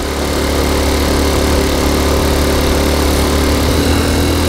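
Honda Cub C90 motorcycle engine idling steadily close by, a loud continuous buzzing drone with an even putter and no speech over it.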